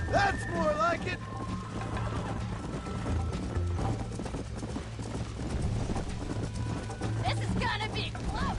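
Rhythmic hoofbeats of a galloping horse pound steadily under a busy background of game sounds and occasional voices.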